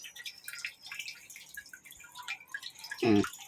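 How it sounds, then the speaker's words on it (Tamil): Water drips from a drip irrigation tube on a terrace garden, with scattered light drops, high and close, and one louder splashy burst near the end. "இந்த சொட்டு நீர் பாசனம் ஒரு பக்கம் அமைதியாக நடந்துட்டு இருக்கும்போது"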